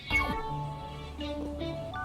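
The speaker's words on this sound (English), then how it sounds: "Nice, cute, content cat" Short meows from a content pet cat named Loaf in a video game mod, close and clear with tonal harmonics, alone with no talk.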